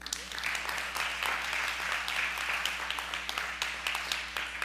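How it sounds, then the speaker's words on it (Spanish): Applause from a church congregation fills the room steadily, a dense wash of clapping with voices mixed underneath. "Dele un aplauso al Señor."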